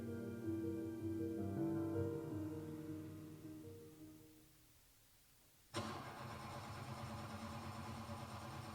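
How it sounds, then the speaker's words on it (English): A car engine cranks but fails to start during a suspense stage play: a steady churning whir runs for about four seconds and then dies away, followed by a short lull and a sudden, harsher broadband rush that carries on to the end. "The motor won't turn over."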